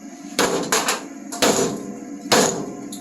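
Heavy hammer smacks drive a Ford F150 truck part into place on a workbench, four loud sharp impacts spaced irregularly with short ringing decay between.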